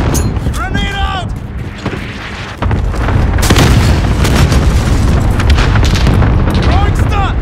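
Grenade blasts and gunfire in Call of Duty: Modern Warfare team deathmatch, loud booms and bursts of shots stacked over continuous battle noise while voices call out.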